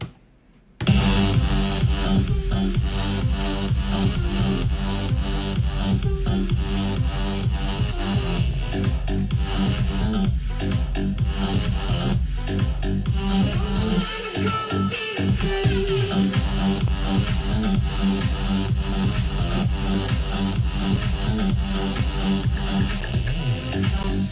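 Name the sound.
electro house track drop with kick and bass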